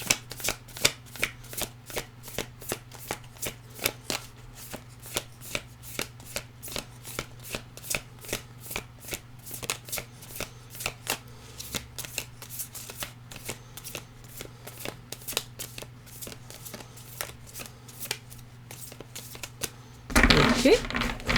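Tarot cards are shuffled over and over in a steady rhythm of crisp, close card slaps and riffles, ending in a brief louder flurry.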